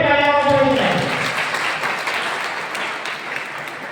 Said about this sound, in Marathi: सर्वांनी एकदा जोरात टाळ्या वाजवायच्या